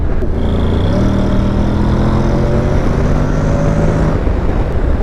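Steady, loud wind roar buffets inside a crash helmet while riding a 2021 Honda NC750X motorcycle, with the engine's low hum droning beneath continuous rushing air.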